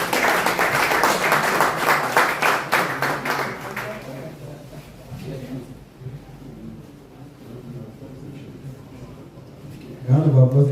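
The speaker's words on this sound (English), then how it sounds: "round of applause again for that Bishop Garrett" An audience at the annual fish party event celebrating World Fisheries Day claps in a dense, loud burst of applause that tapers off over about four seconds, after which a voice talks over faint room noise.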